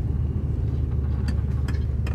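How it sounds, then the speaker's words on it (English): A loud car engine drones low and steady from inside the cabin while driving, a constant close rumble with a few faint clicks and taps above it. "I'm sorry if you can't hear me because it's loud ass car"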